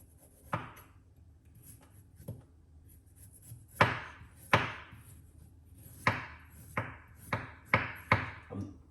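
A knife strikes a cutting board in irregular sharp knocks, about a dozen in all, some spaced out and then in quicker clusters, while the skin is pared off fresh ginger in a kitchen.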